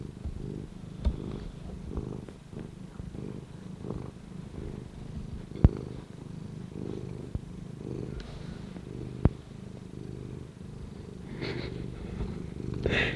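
An old cat purring on someone's lap, a steady low rumbling purr that runs close and continuous, with a few faint clicks and soft knocks around it.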